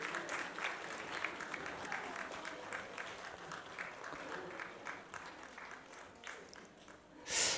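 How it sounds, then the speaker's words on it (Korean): A church congregation claps in congratulation during a Sunday morning service, dense steady applause from many hands that swells briefly at the end. "우리 다시 한번 박수로 축하해 주셨으면 좋겠습니다."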